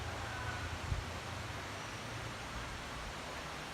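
Khlong Lan waterfall in Thailand produces a steady, even rush of falling water, a continuous soft roar heard from a distance with no breaks.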